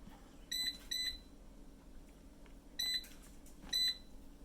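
COSORI air fryer control panel giving four short, high electronic beeps as buttons are pressed, in two pairs with pauses between, over a low background hum.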